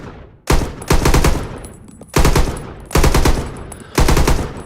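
Rifle gunfire on a practice range in the Rising Storm 2 game, loud rapid bursts of shots in four clusters separated by short pauses, each burst trailing off into echo, with no voices.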